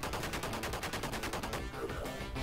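Shotgun fire in the True Lies video game, a rapid run of sharp repeated blasts that stays loud throughout and then trails into noisy rumble, with no talk.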